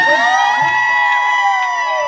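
A crowd cheers and whoops at the Periscope Summit in New York City, with loud sustained shouts close by that continue steadily throughout.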